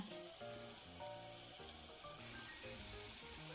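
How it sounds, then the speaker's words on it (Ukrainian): Steady sizzling of mushroom cutlets frying in a covered pan, a dense crackle that runs throughout, with soft tonal music underneath. "смажимо далі котлети під кришкою. Смажимо ще хвилин 3-5."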